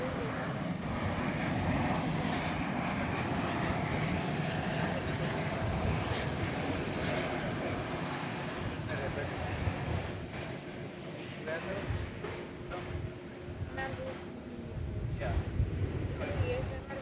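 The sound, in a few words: Delta Airbus A220 airliner arriving at DFW airport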